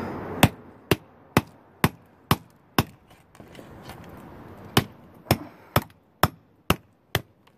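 Sharp rhythmic blows land on an old seal on a 1951 Ford 8N tractor PTO to punch holes in it, about a dozen loud, evenly spaced metallic strikes with a short quieter pause in the middle.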